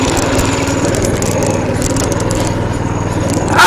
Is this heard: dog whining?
no